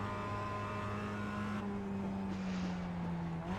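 Motorcycle engine on a road course during a hot lap, dropping through gears in a downshift, with the engine note changing pitch partway through; loud, close, steady mechanical roar with no talk.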